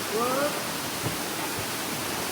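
Steady, dense rush of falling water at Pagsanjan Falls, Laguna, Philippines, filling the scene, a constant roar with no pauses.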